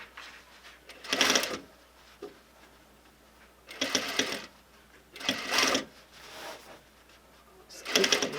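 A sewing machine stitches an invisible zipper close beside welt cord in four short, loud bursts of rapid whirring, with quiet pauses between them while the fabric is readjusted.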